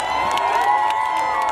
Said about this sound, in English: Clap, Rajika.